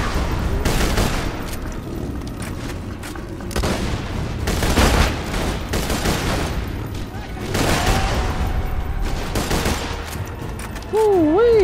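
Gunfire in a Borderlands game: repeated loud bursts and booming shots in uneven clusters, with a voice speaking over the action and a warbling electronic tone at the end.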